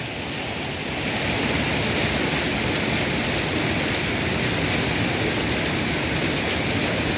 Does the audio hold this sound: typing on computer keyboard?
no